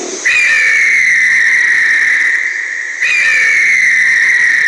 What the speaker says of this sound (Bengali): অনেকগুলো চিল আর পেঁচা একসঙ্গে চেঁচালে যেরকম আওয়াজ হয়